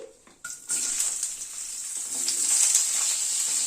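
Sliced radish dropped into a pan of hot oil with five-spice phoron and hing on a low gas flame, starting a bright steady sizzle that swells and carries on alone without talk.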